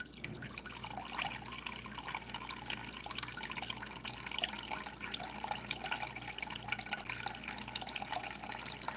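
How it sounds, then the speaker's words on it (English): Spring water runs steadily into a bowl for several seconds, a continuous close trickle with fine dripping texture at moderate loudness and no talking. "put some spring water in this"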